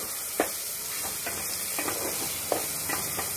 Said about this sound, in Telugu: టమాటాలు, పచ్చిమిరకాయలు, ఉల్లిపాయ నూనెలో మగ్గుతున్నాయి